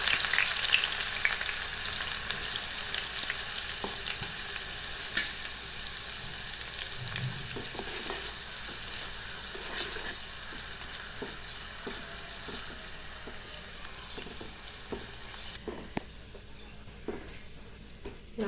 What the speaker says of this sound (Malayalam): ഇനി നമുക്ക് ഈ സവാള അതിലിട്ട് വറുത്ത് കോരാം.